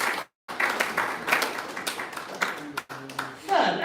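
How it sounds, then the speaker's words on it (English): An audience claps at the commissioning of an incubation and co-working hub, a burst of applause that rises and fades in waves, with a brief gap, while voices carry over the clapping. "Please let's give ourselves a round of applause."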